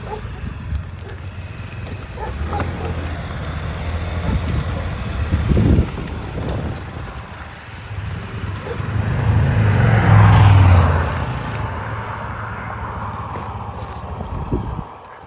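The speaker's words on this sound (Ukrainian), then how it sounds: "Бачите, який комфортний скутер." A Honda Dio 110cc fuel-injected scooter's small motor hums steadily while riding along a road, with wind rumble and road noise swelling louder partway through, no talking.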